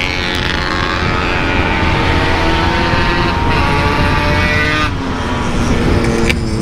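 A motorcycle fitted with 12-inch rims and a front disc brake races a Honda Supra. A loud, continuous engine roar runs throughout, with slight pitch changes as the throttle varies and no voices.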